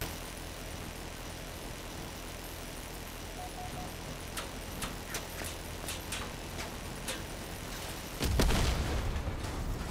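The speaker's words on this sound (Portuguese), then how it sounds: "MG14 com dois radiadores, o tiro é praticamente infinito." An MG14 machine gun in the vehicle combat game Crossout fires a rapid burst of sharp cracks over a steady engine drone, followed by a heavier booming blast near the end.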